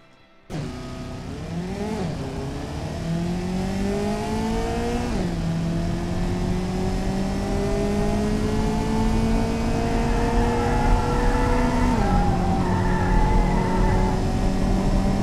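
Mid-engine Toyota MR2 recreation in Automation accelerating around an airfield track, engine revving up through several gear changes with rising pitch, loud and close, alone with no talk.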